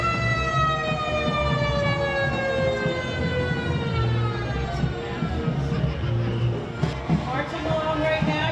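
A fire engine siren wails at the Newark St. Patrick's Day Parade, its loud, steady, rising tone ringing through the whole stretch above a dense rumble of crowd and street noise.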